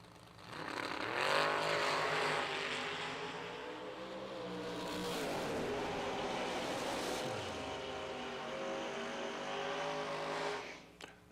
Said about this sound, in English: Another great drag race,